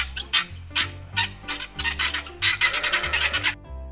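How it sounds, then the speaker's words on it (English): Guinea fowl calling with harsh, rapid squawking cackles that speed up into a dense chatter, set over a rhythmic music backing track. "Guinea fowl."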